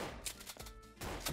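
A few quick gunshots in a video game minigame, short sharp bursts at a low level, one early crack followed by a denser cluster near the end.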